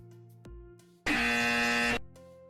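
A harsh, loud incorrect-answer buzzer blares once for about a second, a flat rasping tone standing out sharply against quieter background sounds.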